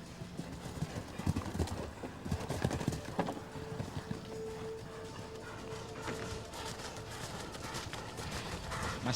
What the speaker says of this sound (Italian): Massimo Tiengo che monta Ulade Meia Lua, cavallo di 12 anni di origine belga.